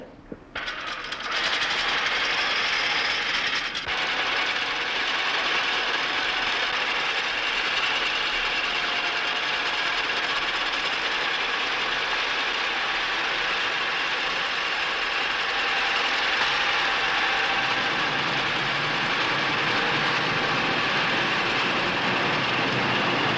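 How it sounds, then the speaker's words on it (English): A rock drill working in a salt mine, loosening rock before extraction: a loud, steady mechanical clatter and grinding that runs without a break, with no talk over it. "As in conventional coal mining, drilling first loosens the rock."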